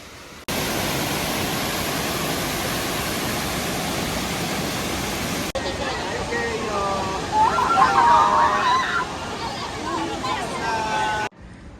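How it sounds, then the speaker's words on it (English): Waterfall beside a lake near Nikko, Japan, giving a continuous broad rushing roar that fills the scene, with a brief pause midway and faint voices over the steady water noise. "this lake that has an amazing waterfall here"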